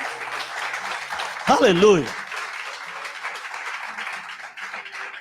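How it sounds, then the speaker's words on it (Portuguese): A church congregation claps in sustained applause during a service while a voice calls out loudly and briefly over the clapping. "Dê um aplauso a Jesus."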